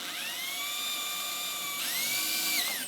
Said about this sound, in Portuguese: Então eu vou fazer com uma de 6 milímetros.